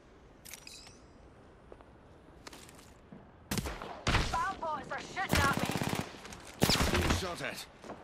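Gunfire in Apex Legends: sparse distant shots at first, then loud close bursts of automatic fire with ricochet-like whines, mixed with game sound effects.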